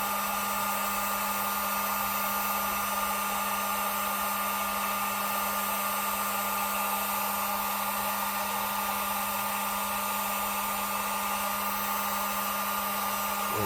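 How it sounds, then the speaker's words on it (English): A heat gun running on its low setting blows a steady, unbroken whoosh with a constant electric hum, close and continuous throughout with no talking. "This is with the heat gun on low."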